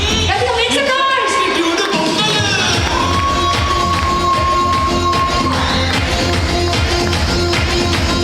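A crowd at a Telugu Sankranti festival gathering in North Texas cheers and whoops loudly, with shouting and noise filling the room, voices mixed in and music underneath.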